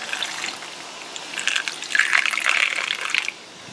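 Water is poured into the cooling system of a Hammerhead 250ss during a coolant change, a gushing, splashing stream that swells, runs steadily for a couple of seconds, then stops abruptly.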